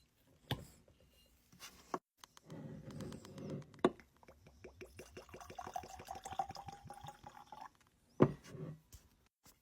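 Corn moonshine pours into a glass, a soft liquid gurgle rising in pitch over a few seconds, framed by quiet clinks and knocks from handling the bottle and glass, faint and close.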